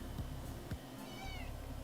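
A house cat gives a few short, quiet meows close by, a soft rising cry near the end, against a low indoor background with no talking.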